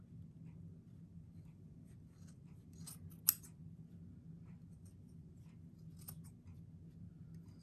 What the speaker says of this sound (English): Then we're going to cut off this extra.